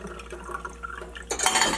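Water is poured while washing dishes in a country setting with very little water, soft clinks and trickles followed by a louder rush of pouring near the end, with no talk.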